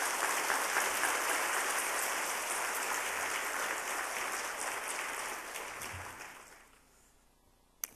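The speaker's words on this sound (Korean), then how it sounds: "박수로 맞이하겠습니다" Congregation applause welcoming a speaker at a Wednesday church worship service, a dense sustained clapping that fades out toward the end.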